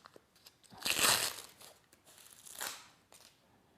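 Therapeutic strapping tape for shin splints is pulled off its roll and pressed onto skin, giving two close, crackling rips about a second and a half apart, then a softer third.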